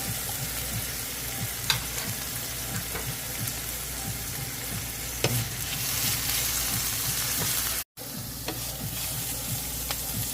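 Garlic and ground onion fry in a pot while stewed Guyanese whitebelly shrimp is being prepared, giving a loud, continuous sizzle with light stirring clicks and a brief cut partway through.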